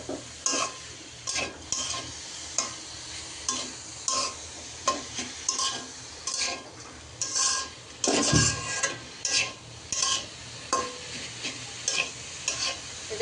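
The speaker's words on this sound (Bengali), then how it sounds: "তো বাগারের জন্য এখানে আমি রসুন কুচি আর শুকনো মরিচ দিয়ে দিলাম" Chopped garlic and dried chili sizzling in hot oil for a tempering, with rhythmic stirring and repeated scrapes of a utensil against the pan, close and steady.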